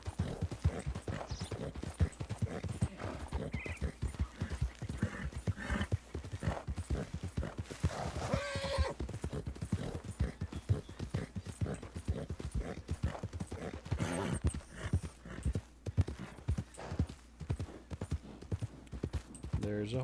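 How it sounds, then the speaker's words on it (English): Horse hooves clip-clop in a steady, rapid rhythm throughout, as from an old-west roleplay game set in 1903, with a brief whinny midway and a voice talking over the galloping. "There's a horse over there."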